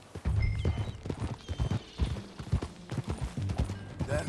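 In the western video game Red Dead Redemption 2, horse hooves clip-clop in a steady galloping rhythm at moderate volume, with faint ambient background.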